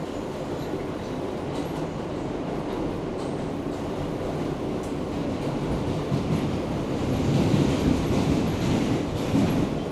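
A New York City subway train running between stations, heard from inside the car: a continuous loud rumble and rattle of wheels on track that swells slightly toward the end.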